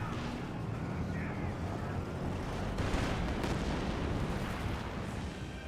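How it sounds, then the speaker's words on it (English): Company of Heroes 2 battle with flame engineers firing flamethrowers: a continuous roaring, rushing burst of fire under a dull wash of distant battle rumble, fairly quiet and steady throughout. "Flame engineers firing away."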